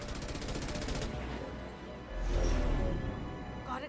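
Rapid automatic gunfire in the video game Mass Effect 2, a dense burst of shots followed by heavier booming impacts and lingering battle noise, loud and continuous.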